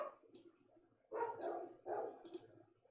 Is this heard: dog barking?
yes